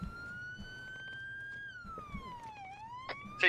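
An ambulance siren in the military video game Arma 3 wails at a moderate distance, one long rising and falling tone with harmonics, steady and fairly quiet, with faint background sounds and a short burst of noise at the end.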